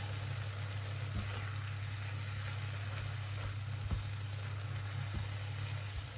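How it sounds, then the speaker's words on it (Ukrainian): Mushrooms frying in a pan with salt, a soft continuous sizzle over a low steady hum, with occasional light clicks from stirring, close and alone without talk. "Зараз перемішаю. І нехай далі досмажуються."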